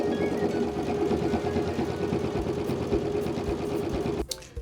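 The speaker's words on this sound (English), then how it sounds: "we're going to take this to the machine and we're going to stitch a 1/2 inch seam from end to end" A sewing machine running steadily as it stitches a half-inch seam along a flea market bag, a fast continuous mechanical whir that stops abruptly near the end, close and alone.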